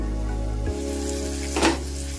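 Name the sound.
tomatoes frying in a pan with turmeric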